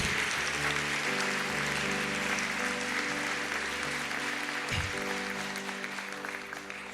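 A church congregation applauds heartily, a dense, steady wash of clapping that holds for the whole stretch alongside sustained musical tones.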